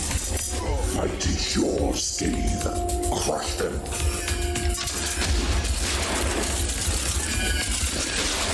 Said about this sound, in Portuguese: É muito tiro, cara.